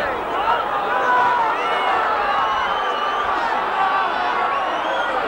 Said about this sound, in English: Wigan crowd urging the team on now